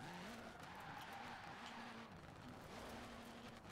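A car spinning out in Forza Horizon 4, its tires squealing and skidding in a steady, wavering whine over a droning engine, faint and continuous with no voice.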